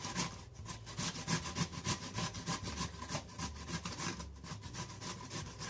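An onion, root still attached, is rubbed against a hand grater in a home kitchen, producing steady, rhythmic rasping strokes that repeat closely and evenly throughout with no talking.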